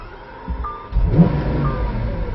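A 2012 Lamborghini Aventador LP700-4 launches hard at Roebling Road Raceway, its engine note swelling abruptly from a quieter rumble into a loud, sustained roar as it accelerates, with no voices.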